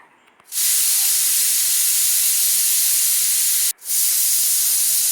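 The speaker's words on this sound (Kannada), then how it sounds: "ಇವಾಗ ಇದು ಮೂರು ವಿಸಿಲ್ ಬರಬೇಕು" Pressure cooker cooking millet chana pulao vents steam in a loud, sustained whistling hiss lasting about three seconds, briefly cutting off and then resuming.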